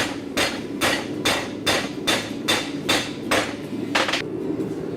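Eight sharp metal hammer blows in a steady rhythm, loud and close with no voices, as small rivets are set by hand into a hand tool in a small-batch tool workshop.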